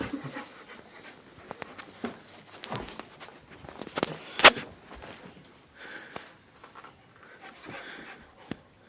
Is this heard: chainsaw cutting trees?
no